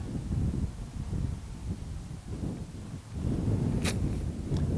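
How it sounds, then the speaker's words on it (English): Gusty wind buffets the microphone outdoors while an FPV drone is flown, a loud rumbling roar that swells and eases with no voices. "Look at that wind."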